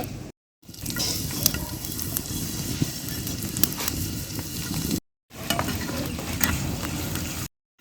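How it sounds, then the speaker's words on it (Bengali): Onions and green chillies fry in a pan with a steady sizzle and occasional scraping stir sounds, broken by two brief silent gaps. "পেঁয়াজ ভাজা হয়ে গেছে এখন"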